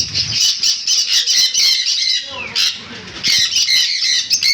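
Lutino cockatiels at a bird seller's squawk loudly and shrilly in close, overlapping bursts, with a brief pause before the harsh calls resume.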